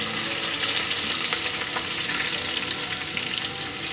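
Chopped onions fry in a pan with hot oil and whole spices, a loud, steady, dense sizzle with crackles and light stirring close by, no voices.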